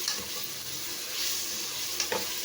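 Onions sautéing with ginger garlic paste for Chettinad mutton biryani, a steady low sizzle under occasional stirring scrapes from a spoon, moderately close and without speech.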